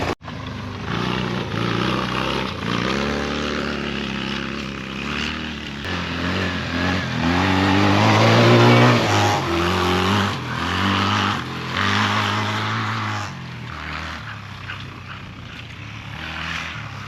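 A cheap Barossa 250 quad bike engine starts abruptly, then runs and revs up and down with a rising and falling drone, loud and close throughout.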